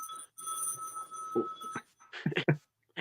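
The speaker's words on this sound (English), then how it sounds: "Why is my phone going off?" A telephone rings with a steady electronic trill, then a few short knocks and bumps follow near the end.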